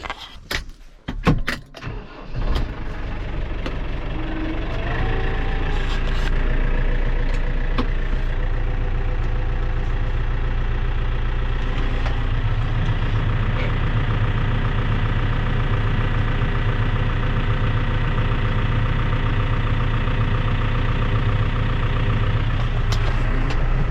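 A tractor engine idles with a steady low rumble after some clattering and jangling at the start, running continuously without voices.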